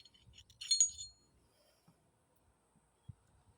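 Metal parts of a Glock 19 pistol clink briefly as the recoil spring and barrel are lifted out during disassembly, a short close bright rattle followed by a faint tap in an otherwise quiet room.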